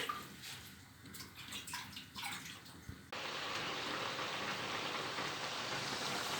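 Tap water pours steadily into a white basin where greens are soaking, a continuous close rush that begins abruptly after some softer splashing and handling sounds.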